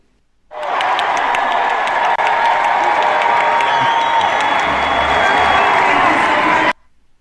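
Political convention crowd at the Democratic National Convention breaking into loud, sustained applause and cheering for about six seconds, starting and ending abruptly as if edited in.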